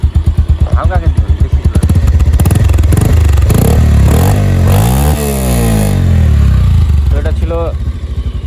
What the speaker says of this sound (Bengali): তো এখন বাইকটার একটু পিক আপ দেওয়া হবে, আপনারা ইঞ্জিনের সাউন্ডটা খেয়াল করেন।